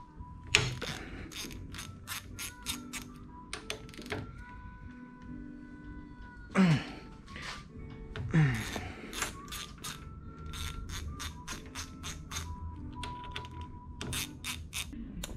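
Metal clicks and ratcheting from a 6 mm Allen wrench working the screws on a Powermatic Model 15 planer head during a cutterhead upgrade, with many sharp close ticks in bursts and a couple of louder scrapes.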